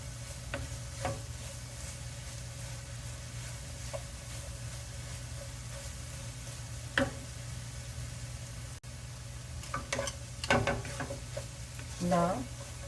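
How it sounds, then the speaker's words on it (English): Carrot burfi mixture being stirred in a pan for several minutes, a steady low hum with a few scraping strokes of the spoon against the pan, fairly quiet. "For a few minutes we're going to be stir like this."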